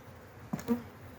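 A hive of honey bees drones steadily on a cool, cloudy day, low and continuous, with one or two bees zipping briefly nearer.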